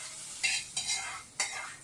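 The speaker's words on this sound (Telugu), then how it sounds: "ఇప్పుడు ఈ పోపు నేను మనం రెడీ చేసి పెట్టుకున్నటువంటి వెల్లుల్లి కోడిగుడ్డు కారంలో వేసుకుంటున్నానండి" A hot tempering sizzles as it is poured into an egg garlic roast and stirred in, with three sharp, close bursts of sizzle and scraping over a low steady hiss.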